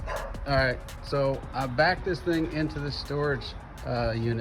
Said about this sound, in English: Sorry about the dog barking in the back.